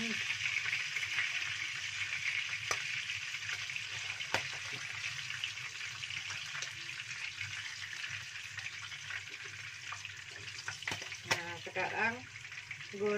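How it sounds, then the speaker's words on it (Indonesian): Capelin fish frying in hot oil as a second batch cooks, a steady close sizzle and crackle running throughout with a few brief clinks and stirring noises near the end. "Sekarang goreng yang keduanya."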